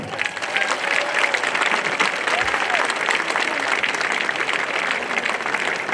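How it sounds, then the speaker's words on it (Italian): Audience applause opening a performance by Istentales and Dolce Nera in Bodoni, a thick, sustained wash of clapping with some voices and whistles mixed in. "Un grande applauso."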